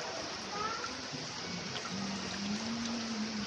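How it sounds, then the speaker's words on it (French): A small waterfall trickling into an indoor fish pond with water lilies, a soft, steady splashing wash with faint tonal sounds over it, as though voices are nearby. "Regardez, cascade. Petite cascade, ouais."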